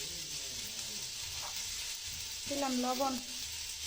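Onions, turmeric and salt fry in a pan for a dried fish (shutki) curry, a steady close hiss and sizzle running beneath a voice.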